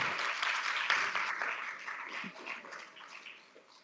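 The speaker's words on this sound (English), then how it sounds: "I'll break a little with tradition and seek some applause at that point" Applause from an audience, a dense wash of clapping that starts full and gradually fades over a few seconds.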